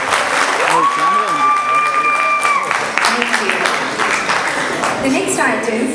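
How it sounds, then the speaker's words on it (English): A crowd at a Kuchipudi dance performance claps steadily throughout, with a sustained sung or played melodic note over the applause early on. "Let us all show our appreciation with one more round of applause"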